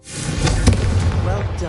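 A Confringo fire spell goes off in Hogwarts Legacy as one short, sharp crackling blast that trails away into a fizzing burst.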